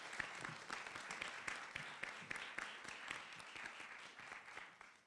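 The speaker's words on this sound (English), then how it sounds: "could we give one more round of applause" Audience applause for Supervisor Joe Simidian at a civic roundtable on free speech, a steady wash of many hands clapping at moderate distance, sustained for about five seconds and fading slightly at the end.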